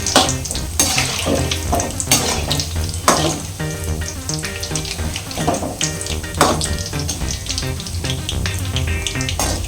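Gulab jamun fry in hot oil with a steady crackling sizzle. Stirring clatter and sharp utensil knocks break in repeatedly, and no voices are heard.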